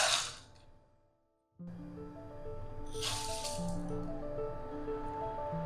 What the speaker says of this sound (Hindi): राजमा डाल देंगे,